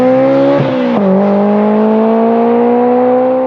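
A Vauxhall VXR turbo car fitted with an aftermarket 3-inch turbo-back exhaust revs hard, a loud, close, droning exhaust note that dips briefly twice, then climbs steadily in pitch as the engine holds high revs.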